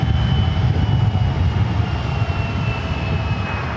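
Airliner at SFO on runway 1 left, cleared for takeoff, with a steady, loud low engine roar and a faint whining tone above it, continuous throughout.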